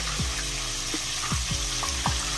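Tilapia fries in hot oil in a pan, a steady close sizzle broken by a few sharp knocks and shifts as the fish is turned over; no voices.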